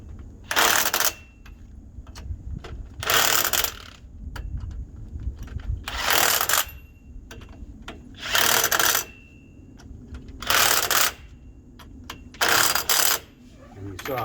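An impact gun runs down lug nuts on a 1998 K1500 truck wheel in six separate loud bursts of hammering rattle, each about a second long, with quiet clinks and shuffling between them.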